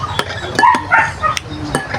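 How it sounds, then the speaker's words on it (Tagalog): A dog gives short whines and yelps close by, mixed with faint clinks of dishes or cutlery. "Kapag dinididma mo yung aso namin yan, nag-iyak-iyak."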